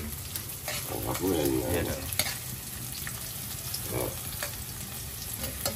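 Onions sizzle and get stirred in a hot pan while crab with glass noodles is being cooked, giving a steady frying hiss broken by scraping stirs, with brief talk over it.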